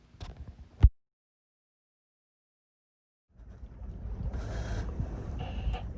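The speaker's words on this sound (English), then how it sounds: "the wind fills my sails and pushes me south" Wind blowing steadily while a sailboat runs south under sail on the way to the Atlantic Ocean, a brief knock early on, then near silence, then a rising rush of wind and water noise.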